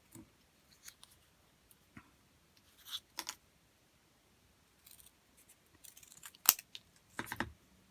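A small piece of mosaic tile is snipped with a cutter for a Wedgwood-style vase, giving sparse, quiet clicks and crisp snips scattered across a near-silent background.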